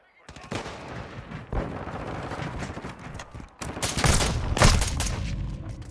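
Video game gunfire in Modern Warfare II, a near, loud stretch of rapid shots and bursts that builds toward heavier blasts near the end, with a voice talking underneath at moments.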